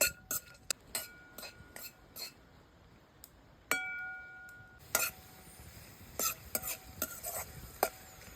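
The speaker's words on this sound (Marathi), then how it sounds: "आपले ड्रायफ्रूट्स मस्त असे तुपात तळून घेतलेले" Dry fruits frying in ghee in a kadhai, stirred with a spoon that scrapes and clinks against the pan in sharp, irregular knocks over a soft, faint sizzle, with no talking.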